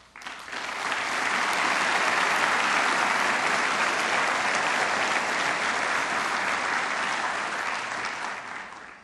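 A large crowd at a police academy class graduation ceremony gives loud, sustained applause that swells quickly, holds steady for several seconds with no talk, then begins to taper.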